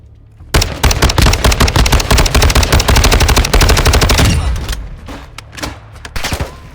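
Loud, rapid automatic gunfire from a gun in Call of Duty Warzone 2.0 rattles in a fast steady burst for several seconds, then trails off into scattered single shots.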